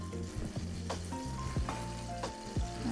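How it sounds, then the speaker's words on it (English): Steady sizzling of mushrooms frying in a pan, with a few clinks and scrapes of a utensil stirring. "So I hear it sizzling my pan."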